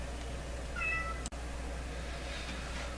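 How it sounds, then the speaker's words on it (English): A cat lets out a single short, clear meow at middle distance over a steady background hum, with no talking. "Settle my cat down, because I know he's not going to leave me alone."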